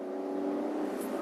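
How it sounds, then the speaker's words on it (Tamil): A 2024 Maruti Dzire engine hums at about 3500 RPM in second gear, a steady droning whine from inside the car, fairly loud and constant. "கொஞ்சம் அந்த இன்ஜின் நாய்ஸ் வருது."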